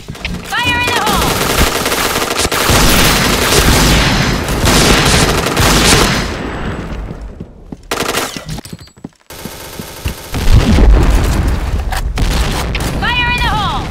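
Combat in the shooter Point Blank, including grenade explosions: heavy, sustained automatic gunfire and booming blasts, loud and close, with a short lull midway before the firing resumes. Voices call out over the shooting.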